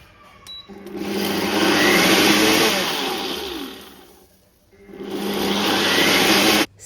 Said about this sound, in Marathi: स्मार्ट ब्लेंडचं ऑप्शन मी प्रेस केलं आहे आणि थांबून थांबून ते ब्लेंड होतं